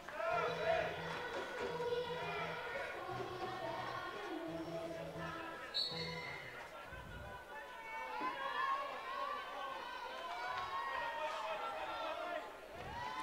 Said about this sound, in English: And the crowd's starting to get into it a little bit here.